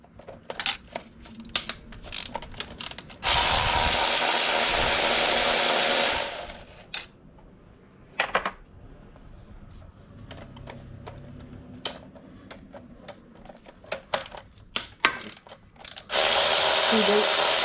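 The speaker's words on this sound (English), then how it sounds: "let's get the rest of the bolts off" Ratchet removing bolts during a car modification install, with bursts of rapid clicking and a couple of longer loud ratcheting runs between quieter handling noises, close up.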